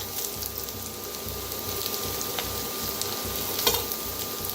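Curry leaves, green chilli, garlic, onion and tender coriander stems frying in a pan for pithla, a strong continuous sizzle with rhythmic stirring scrapes and a faint steady tone underneath.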